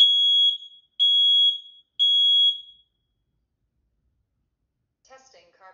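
A home smoke alarm in a hallway sounds during a test with three loud, piercing beeps in an even one-second rhythm, then silence before a faint electronic voice speaks.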